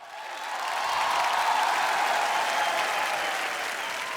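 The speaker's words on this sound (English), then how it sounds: "A round of applause for Navid Jaffrey." An audience at the IIFA 2019 awards breaks into applause, a broad crowd roar of clapping that swells in, holds steady and eases slightly toward the end.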